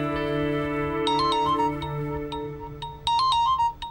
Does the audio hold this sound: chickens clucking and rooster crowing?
no